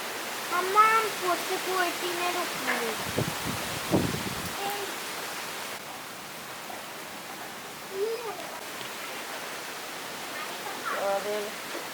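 Steady rain in a village during a storm, a soft broad hiss running throughout beneath people talking, with a few duck quacks and close thumps.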